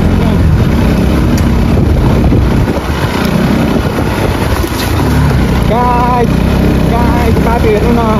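A motorcycle engine drones steadily and loudly on a trip to Jhandi Dada in Ilam, holding a constant rumble throughout, with voices speaking over it.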